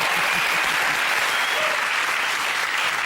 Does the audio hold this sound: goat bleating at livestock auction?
no